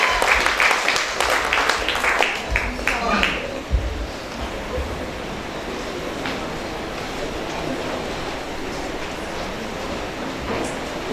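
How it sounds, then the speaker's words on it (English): Audience at a Mineral Heights Christian Preparatory School 2023 graduation ceremony claps in a steady, dense wash that holds evenly throughout, with a burst of louder, sharper claps and cheering near the start. "Keep the claps going, man."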